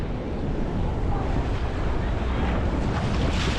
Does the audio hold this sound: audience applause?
no